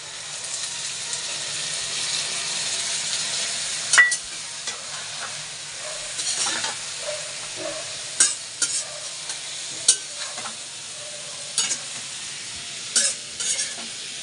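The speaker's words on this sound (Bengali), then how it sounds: "এই যে ভাজা বসিয়ে দিয়েছি" Vegetables for a fish curry (potato, eggplant and stalks) sizzle steadily in a pan, with intermittent scraping stirs and spatula clinks over a continuous frying hiss.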